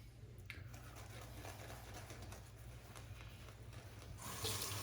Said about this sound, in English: Now we get our nerdy squirt bottle and we squirt that in.